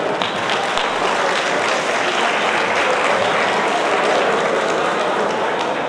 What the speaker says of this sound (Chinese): 请你们全部都给他们一个热烈的掌声